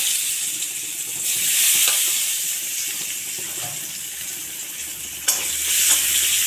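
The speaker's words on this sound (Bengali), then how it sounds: "আমি পেঁয়াজ একটা মিডিয়াম সাইজের টুকরো করে রেখেছি দিলাম" Medium-sized chopped onion pieces dropped into hot oil in a wok, a loud, steady sizzle that carries on throughout, with a sharp clink partway through.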